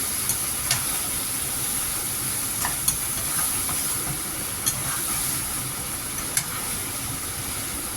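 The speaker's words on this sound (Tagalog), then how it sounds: "Niluto din natin ng saglit lamang" Adobong sitaw, string beans with white vinegar, sizzles and hisses steadily in a pan, with a few faint clinks and taps now and then.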